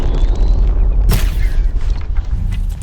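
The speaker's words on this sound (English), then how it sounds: "So I guess I could just sit here and shoot it." A weapon fires at a machine in the video game Horizon Zero Dawn, one sudden sharp blast cutting through a loud, rumbling game soundscape that dies back down afterward.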